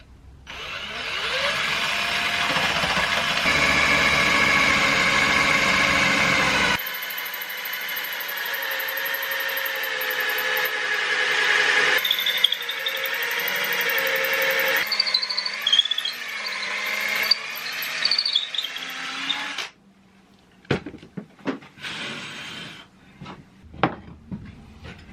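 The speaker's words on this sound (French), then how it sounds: "Pour le bois, une mèche à bois qui est très longue, ce qui me va très bien pour ne pas être gêné avec le mandrin de la visseuse." A screwdriver drill with a long wood bit bores into wood for guitar building, a sustained whirring that shifts pitch as it slows and stops, followed by scattered knocks and handling sounds.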